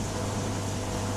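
Steady mechanical hum of a koi pond heater running beside a pond, a constant low drone with a broadband whir, close and unchanging throughout.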